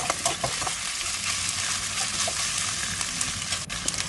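Wide rice noodles stir-fried in a hot pan for Thai chicken kua gai, hissing with a continuous dense sizzle broken by light scraping and stirring noises, close and fairly loud.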